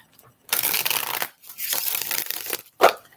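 Tarot cards are riffled and shuffled up close in two long papery bursts, followed by a short sharp snap as the deck is squared.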